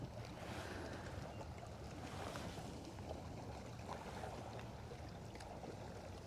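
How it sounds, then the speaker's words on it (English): Water laps against rocks at a bass fishing spot, a faint, continuous wash with small irregular splashes and rustling, distant and low in level with no voices. "I think you guys can hear the water lapping off the rocks"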